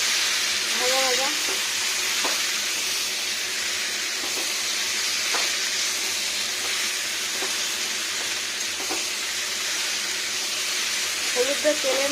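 Chopped young pumpkin and vegetables fry in hot oil with green chilli and turmeric, a steady loud sizzle with occasional scraping stirs, no speech over it.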